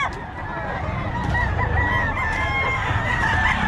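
A Boston-breed gamecock crows loudly and steadily over a noisy outdoor cockfighting farm yard, with other fowl clucking and faint voices in the background.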